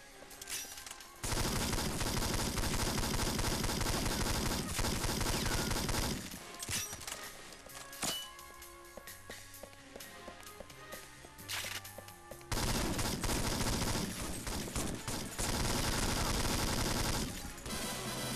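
Heavy automatic gunfire from armed vans in the James Bond 007: Nightfire video game, dense sustained bursts that pause briefly into quieter game sounds before resuming loud and continuous.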